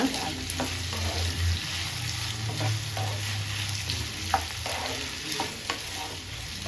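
Potato pieces fry and get stirred in a pan, a steady close sizzle running the whole time with light scraping and tapping from the stirring.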